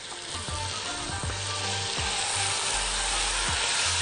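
Chicken pieces sizzle and fry in hot oil in a pot, a steady loud crackle broken by several sharp stirring scrapes spaced irregularly throughout.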